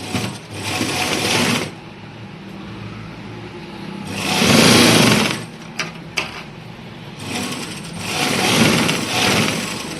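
Sewing machine running in bursts while double-stitching a suit shoulder seam: three loud whirring runs, with short pauses and faint handling noise between them, no voices.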